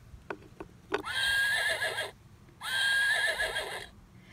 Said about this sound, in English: Did you hear the horse?